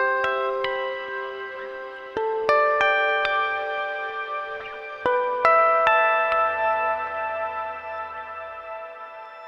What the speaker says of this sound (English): It's just clean guitar.